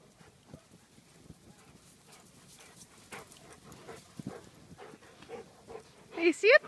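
Faint scuffling, light panting and small yips of Giant Schnauzer puppies romping in snow, with a sharper burst of yelping at the end; no talk.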